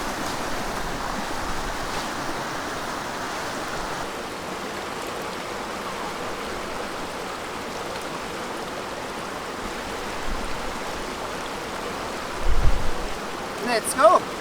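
A Cairngorms river rushes steadily where it splits into small channels, a broad close wash of water throughout, with a few louder splashes or bumps near the end.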